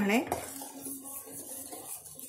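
A spoon stirs thick tender-coconut rabri in a pan on a gas stove, making soft, steady scraping and clinking against the metal that stays quiet and continuous throughout.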